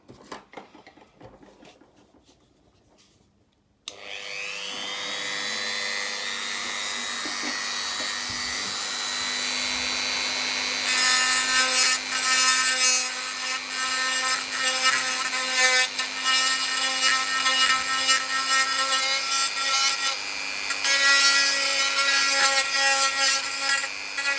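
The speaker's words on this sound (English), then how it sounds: "So first off, I'm just going to do that grind here." A power grinder cuts into wood, starting up with a rising whine and then running steadily, getting louder and rougher as it bites into the workpiece, close and continuous with no talk.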